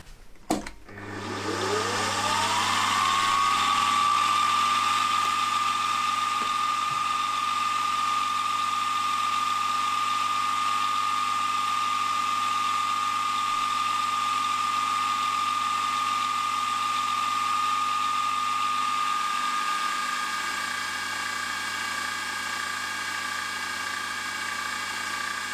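A small machine spinning a 1.1 mm drill bit into metal for a carburettor throttle body, a steady high motor whine that ramps up at the start and holds level for a long stretch over a low hum.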